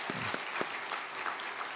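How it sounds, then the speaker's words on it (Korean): A church congregation applauds the musicians who played instruments through a twenty-day early-morning prayer service, with clapping that is steady and broad across the whole short stretch and no talk over it. "20일 동안 악기로 또 연주해 주신 우리 분들을 위해서도 감사의 박수 한번 드리겠습니다"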